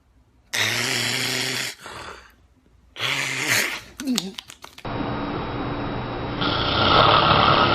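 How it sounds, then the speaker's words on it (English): A man asleep in bed gives two loud, rasping, droning snores, then a long steady hiss takes over. "He's been snoring for hours and I can't fucking sleep"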